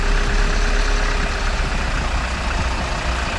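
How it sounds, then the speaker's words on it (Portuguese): City transit bus engine rumbling steadily while driving along its route, a loud, continuous low drone heard from inside the bus with no talking. "Observa aí o ronco do motor aí, ó. É muito gostoso aí esse ronco do motor"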